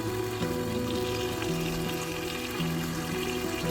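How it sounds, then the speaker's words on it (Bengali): Fish cooking with bitter gourd in a pan gives a steady, close sizzle of frying, with faint stirring scrapes mixed in. "করল্লা দিয়ে একটু নেড়ে চেড়ে মরিচগুলো দিয়ে দিব।"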